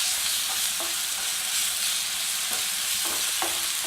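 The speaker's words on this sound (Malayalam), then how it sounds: "ഇനി ഇതിലോട്ട് നമുക്ക് ഇഞ്ചി വെളുത്തുള്ളി പേസ്റ്റ് ചേർക്കാം. ഇത് 2 മിനിറ്റ് വഴറ്റിയെടുക്കണം." Ginger garlic paste sautéing in a hot pan gives a steady, close sizzle and fry, with a few brief scrapes of stirring scattered through it and no voices.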